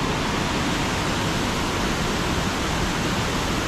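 The emerald Kuang Si waterfall near Luang Prabang roars as a constant, dense rush of falling water, steady and close with no voices.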